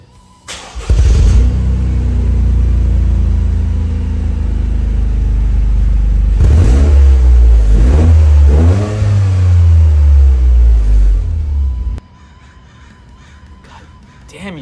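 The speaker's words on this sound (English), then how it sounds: "It includes the turbocharged engine. This thing takes off." A turbocharged Toyota GR Corolla revs hard from close by, its engine climbing in loud repeated surges before cutting off abruptly, with crows cawing at the start.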